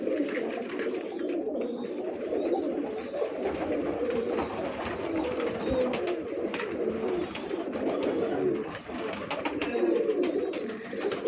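Many pigeons coo continuously inside a pigeon loft, a close, dense layer of overlapping soft coos and rustling with no talk.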